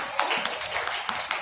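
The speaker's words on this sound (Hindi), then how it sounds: "जोरदार तालियों स्वागत कीजिए इनका" Children clap to welcome a guest at a school gathering, a few loud distinct claps standing out over a lighter scattered patter of small hands, brief and somewhat uneven.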